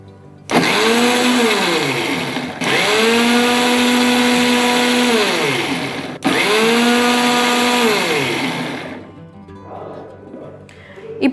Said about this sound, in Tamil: இந்த மிக்சரோடைய சேர்த்து நம்ம ஒரு முட்டையும் சேர்த்து அடிக்க போகிறோம்.